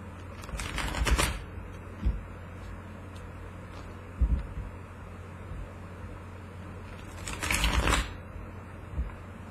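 Two bursts of tarot card shuffling, riffling rapidly near the start and again near the end, with a few soft taps between and a low hum underneath.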